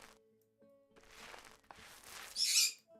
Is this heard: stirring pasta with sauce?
no